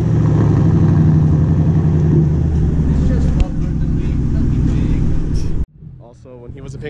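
A 2002 GT car engine runs at a steady idle with a throbbing low rumble, loud and close. It cuts off abruptly near the end, and a voice follows.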